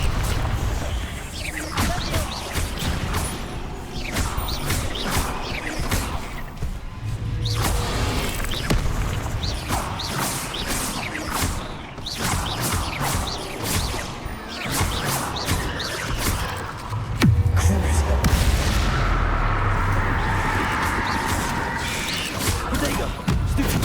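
Confringo fire blast spells explode inside a mine in Hogwarts Legacy, with repeated thuds, crashes and whooshes over steady combat noise and a few low booms.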